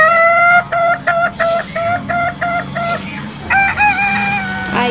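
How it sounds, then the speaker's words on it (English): A hen clucking, heard as a run of short repeated clucks with a quick steady rhythm, then a few louder, longer calls near the end, close and clear with no talking. "H for hen."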